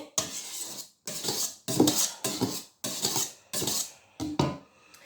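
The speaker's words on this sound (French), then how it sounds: "Et là on va on remue bien." Madeleine batter with its liquids just added gets stirred in a bowl, a run of rhythmic scraping and rubbing strokes broken by brief pauses, close and clear, with no voices.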